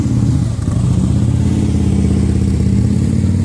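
A Harley-Davidson motorcycle rumbles loudly nearby with a steady, deep, throbbing exhaust note that holds for several seconds.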